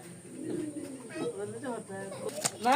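Soft pigeon cooing repeats through the clip, close by, with people talking over it and brief background clatter.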